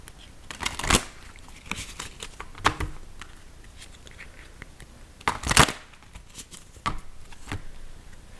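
Tarot purpose cards are shuffled and handled close up, with several sharp riffling bursts and soft slaps spaced irregularly over quiet pauses, with no voices.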